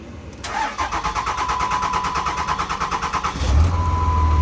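A 6.7 diesel engine cranks steadily for about three seconds after a CP3 pump swap, then catches and settles into a low, rumbling idle, close and loud.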